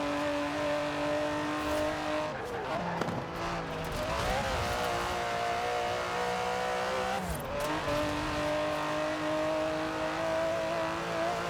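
An Aston Martin DB11's 5.2-litre twin-turbo V12 roars in Forza Horizon 4, a loud continuous engine drone that climbs and drops through several gear changes as the car accelerates.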